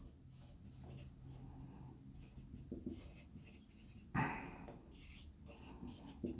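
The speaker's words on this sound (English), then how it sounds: "so let us just write down the required ratio." Pen writing on paper, soft scratchy strokes in short bursts, close but faint, with a dog whimpering and breathing in the background.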